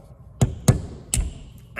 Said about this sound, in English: take this expansion cover here and get it out, which requires a hammer and a punch. And you basically, you beat on it until it comes out.